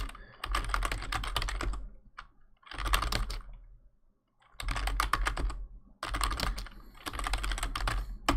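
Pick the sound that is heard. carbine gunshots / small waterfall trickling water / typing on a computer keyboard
typing on a computer keyboard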